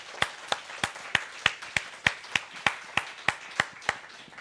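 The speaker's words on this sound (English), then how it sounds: "let's just give them a round of applause" Audience at a conference session applauding, heard as a slow, even rhythm of about fifteen single sharp claps, each one distinct and moderately loud, with no voices over them.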